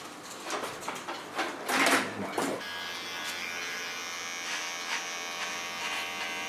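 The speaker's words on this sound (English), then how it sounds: "Going to a fine comb and a small clipper." A small hair clipper trimming and cleaning the contour of a pixie haircut, a close steady electric buzz that follows a few brief handling and comb noises and hums on evenly to the end.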